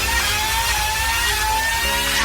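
A 2015 Kawasaki Ninja H2R track-only superbike engine whirs and revs steadily at high pitch, loud and continuous with no pauses or talk.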